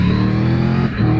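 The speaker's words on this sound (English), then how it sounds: "But like my bike sounds better, way better. It sounds mean, it sounds angry." A big motorcycle engine revving, loud and close, holding a deep throaty drone that dips briefly before swelling again within about a second.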